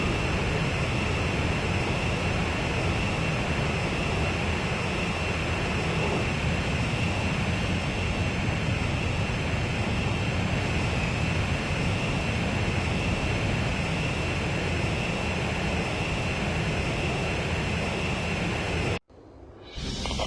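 Jet aircraft engines during aerial refueling in the video game Ace Combat 5: a loud, steady, broadband roar holds unchanged for nearly twenty seconds, then cuts off abruptly and returns faintly.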